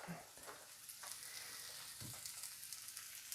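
Eggs frying in a pan, a steady broadband sizzle with a few soft clicks and stirring knocks, fairly quiet and close, with no speech.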